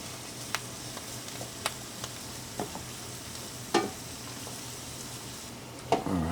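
Garlic hitting melted butter in a pan gives a low, steady sizzle with a few light clicks and stirring taps, quiet and close, with no talking.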